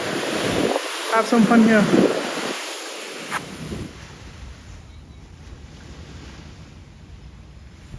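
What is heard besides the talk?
ocean waves at beach in Krabi, Thailand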